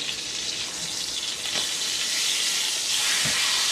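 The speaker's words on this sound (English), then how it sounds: "the idea here is not to cook it, but just to brown it on all four sides" Black bear meat browns in a hot pan, giving a steady close sizzle and crackle with brief spits as the pieces are moved, and no talking.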